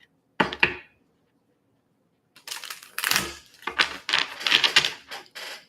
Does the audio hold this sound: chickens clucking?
no